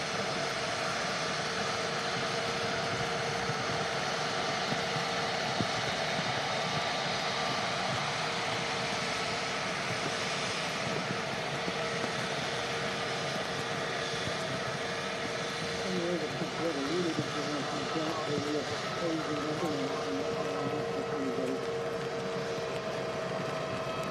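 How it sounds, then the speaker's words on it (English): An EasyJet airliner on final approach to touch down at Manchester Airport, a steady broad jet engine roar holding at a constant level throughout, with someone talking over it. "EasyJet just about to touch down now."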